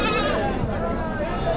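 Sheep and goats bleat amid a steady crowd murmur at the Chakan goat and sheep market in Maharashtra, with people talking throughout over a dense, continuous livestock din.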